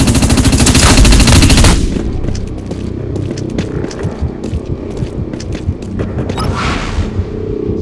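A loud, dense burst of heavy null cannon blasts in the video game Dust 514 opens the clip, then gives way to rattling impacts and scattered explosive game effects.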